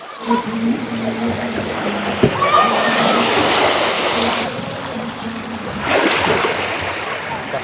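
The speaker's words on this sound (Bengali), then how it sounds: "এইরকম সমুদ্রের কুলধ্বনি শুনতে হবে" Sea waves wash onto the shore at Mousuni Island in a continuous broad rush that swells, eases and surges again, heard close and fairly loud with no clear talk.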